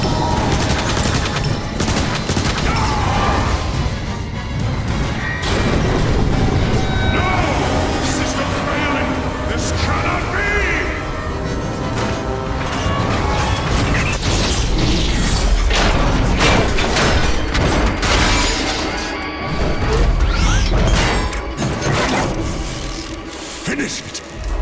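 A Transformers: War for Cybertron battle fires volleys of gunfire and blasts at a core, with dense, loud rapid shots and explosions. Robotic voices shout over the chaos.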